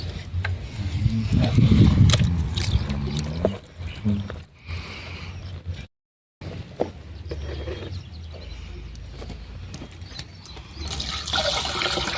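Water pours and splashes steadily into a bucket outdoors, a continuous gushing rush with a short break partway through, and someone talks over it.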